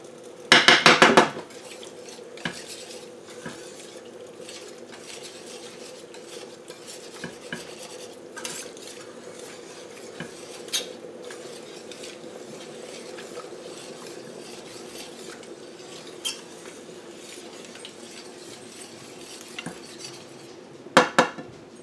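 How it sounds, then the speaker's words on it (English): A spoon works sauce in a pot for a vegan tuno noodle casserole, a soft steady stirring with scattered clinks of utensil on metal and a couple of louder clattering bursts at the start and end. "Just keep stirring until you get a sauce consistency that you like."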